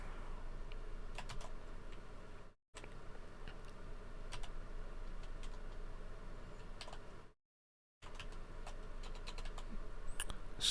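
Keys clatter on a computer keyboard in steady irregular bursts of quick ticks, moderately close, continuing for several seconds with two brief gaps of silence and no talking.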